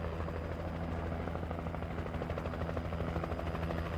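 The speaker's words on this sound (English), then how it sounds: "maybe Cynthia would come out at this point, hearing the helicopter" A helicopter in the video game Alan Wake drones steadily with a fast rotor chop and loud engine hum throughout, close and constant, with no one talking.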